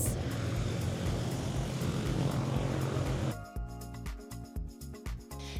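A GB1 fully aerobatic propeller plane landing with zero flaps at about 100 knots, its steady broadband engine and wind roar loud and continuous, then cutting abruptly to a quieter, choppier idle near the end.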